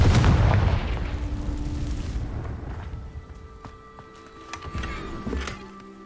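A Confringo blasting spell detonating in the Hogwarts Legacy video game, a loud booming burst at the start that decays into a rumbling tail, followed by quieter game effects.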